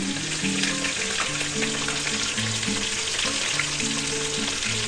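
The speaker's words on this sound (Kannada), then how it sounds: "ಈಗ ಈ ಕಾನೆ ಮೀನನ್ನು ಈ ಆಯಿಲ್ನಲ್ಲಿ ಹಾಕಿ ಫ್ರೈ ಮಾಡುವುದು." Kane fish sizzle steadily in hot oil in a pan, a dense and constant frying hiss that stays loud and close throughout, with no talking.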